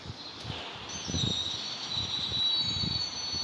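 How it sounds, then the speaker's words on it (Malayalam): A video game train in Indian Theft Aura rumbles along with a high metallic squeal of wheels on rails, steady and fairly close, with no voices. "ട്രെയിൻ വരുന്നുണ്ട്."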